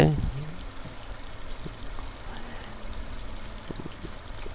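Carp fried over a hot village clay stove makes a soft, continuous hiss, like a steady pour. A short burst of voice opens it, and the frying runs on at an even, moderate level.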